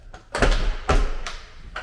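A door being pushed shut in a house, near the washing machine room, giving two or three dull thuds and knocks as it fails to catch, close and fairly loud.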